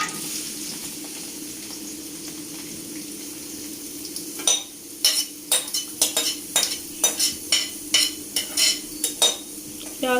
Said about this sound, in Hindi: प्याज को भी हल्का सा ब्राउन कर लें।